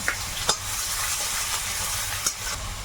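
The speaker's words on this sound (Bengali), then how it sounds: "পেঁয়াজ আর রসুনটা দিয়েছি" Chopped onion and garlic frying in oil, a loud, even sizzle with three sharp stirring knocks against the pan spaced through it, close by, with no voices.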